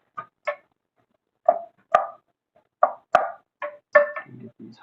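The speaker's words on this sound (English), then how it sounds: "Alright, I'm stirring up some of these onions." Onions stirred in a buttered pan, a series of separate short clattering taps and scrapes spaced out irregularly, close and fairly clear with silence between them.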